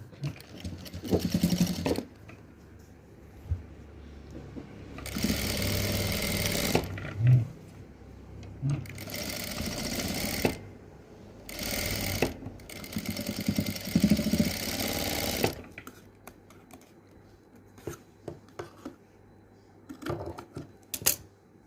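Sewing machine stitching the shoulder seam of a garment, running in several loud bursts of rapid mechanical stitching separated by short pauses, with quieter handling sounds between runs.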